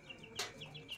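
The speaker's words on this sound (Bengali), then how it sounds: "দেখছেন আমার টাইগার মুরগির বাচ্চাগুলো" Nine-day-old tiger chicken chicks peep softly and repeatedly at close range, with a brief louder rustle in the middle and a quiet background.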